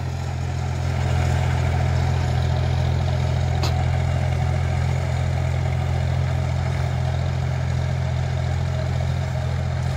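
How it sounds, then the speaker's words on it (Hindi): A John Deere 5050 D tractor engine runs with a steady, close, low diesel drone that never changes in loudness, heard alone without voices. "आप चाल देखिए ट्रैक्टर की,"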